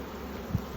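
Honey bees buzz faintly around a nuc hive in late summer, a low continuous drone with a brief louder swell partway through.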